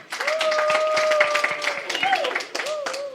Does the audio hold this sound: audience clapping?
yes